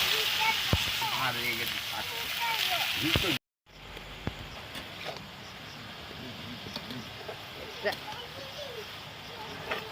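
Ridge gourd pieces fry in hot oil with nigella seeds and dried red chilli, a steady crackling sizzle that breaks off abruptly partway, then resumes as a softer, continuous hiss with scattered pops.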